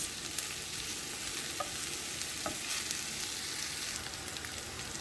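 Doner meat is stirred and sautéed in a pan, giving a steady close sizzle with occasional scraping clicks from the utensil and no voices.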